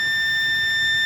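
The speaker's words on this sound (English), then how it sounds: "beep" Steady continuous multimeter continuity beep, loud and unbroken, while probing a shorted MOSFET on a laptop motherboard's 19V line, with no talk over it.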